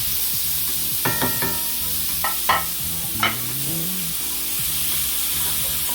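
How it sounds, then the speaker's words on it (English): Pork bacon frying in a cast iron skillet, a constant close sizzle under a low hum, punctuated by a handful of sharp clacks and scrapes from a utensil against the pan. "So I'm gonna put my bacon in. Allow this food to fry."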